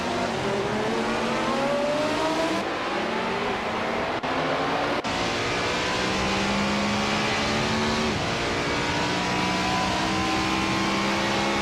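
Group 6 race cars, including Porsche 936s, racing in a video game, their engines droning loud and steady with rising and falling whines as gears shift and several cars overlap.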